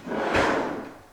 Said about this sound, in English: We got the soft close on all of them, even the drawers.